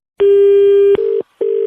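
A telephone call-ended tone after hanging up: a loud steady electronic beep with harmonics, followed by two shorter beeps separated by a brief silence, alone with no talk.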